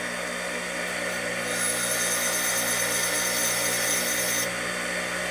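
A power grinder works a transmission part from a 1961 Harley-Davidson Sportster XLCH, giving a continuous, even abrasive whine with a brighter, harsher stretch in the middle, heard alone at moderate volume.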